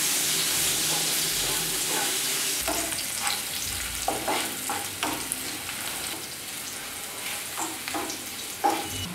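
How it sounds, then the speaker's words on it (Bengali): Chopped onions frying in hot oil for a Bengali-style chicken roast, a loud continuous sizzle and hiss with intermittent scraping and clacking stirring strokes of a spatula against the pan. "এবার একটু ভেজে নেব, পেঁয়াজটা একটু বাদামি করে ভাজবো।"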